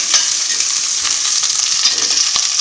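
Sausages browning in oil in a pan give off a dense, continuous sizzle with small crackling pops, close and fairly loud, and no one speaks over it.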